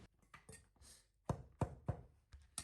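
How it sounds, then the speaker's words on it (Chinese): A knife cuts king oyster mushroom trimmings into thin slices on a board, a run of sharp close taps and thunks in an uneven rhythm with brief pauses between strokes. "用刀切成薄片。"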